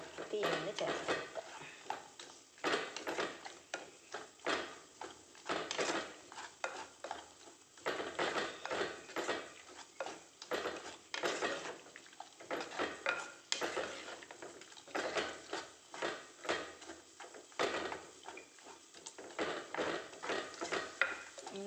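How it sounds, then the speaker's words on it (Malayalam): Jackfruit seed olan stirred in a cooking pot, with repeated scraping and clinking strokes of a spoon against the metal in an irregular rhythm, close and fairly quiet, while someone talks over it. "അപ്പോൾ എല്ലാം കൂടി ഒന്ന് ഇളക്കി ചേർത്ത് കൊടുക്കാം."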